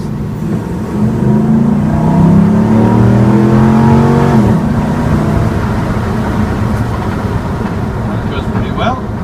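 A Dodge Durango with a Hemi V8 revs up hard while driving, a rising engine note with strong induction roar that peaks then drops back to a steady cruising drone, loud and close from inside the cabin.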